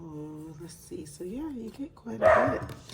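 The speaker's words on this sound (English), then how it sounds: "Sorry about my dog." A dog barks a few times, close by and fairly loud, breaking in near the end over someone speaking casually indoors.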